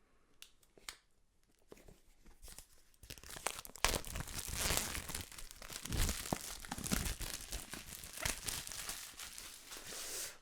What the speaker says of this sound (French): j'avais oublié ce que ça faisait de déballer des produits sur la chaîne